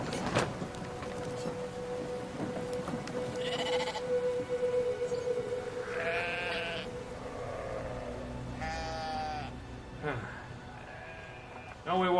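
Sheep bleat repeatedly in the video game Brothers, a series of loud, wavering calls spaced a few seconds apart over steady background ambience, while someone talks throughout.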